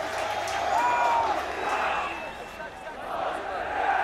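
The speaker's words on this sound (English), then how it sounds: "So a great roar from the crowd as the game begins" A stadium crowd roars at kickoff of a schoolboy rugby match between Grey Bloem and Affies, a broad sustained swell of cheering and shouting that stays loud throughout, with a few whoops rising above it.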